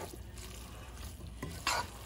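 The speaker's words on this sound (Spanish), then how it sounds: "ya agregamos el chile y vamos a mezclar" Potatoes being stirred with chile sauce in a pot, a steady soft scraping and wet mixing with a faint simmer underneath and one louder clatter near the end.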